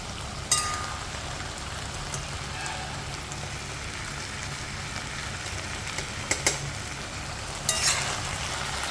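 A pan of rui fish head cooked with pui greens sizzles and crackles steadily in a home kitchen, a continuous even frying hiss with a few sharp pops and spoon scrapes.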